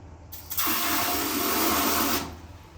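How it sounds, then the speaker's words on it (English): A handheld bidet sprayer in a guesthouse bathroom blasts water at good pressure, a loud steady hiss that starts abruptly, holds for about two seconds and cuts off, with no talking. "the bum gun is clean with good pressure control"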